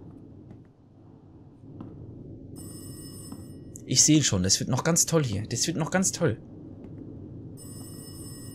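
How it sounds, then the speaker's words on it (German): Telephone ringing in the horror video game Rise of Insanity, a sharp repeated electronic ring pulsing for a couple of seconds and loud over the room tone, with someone talking before and after. "Hey, hier klingt ein Telefon."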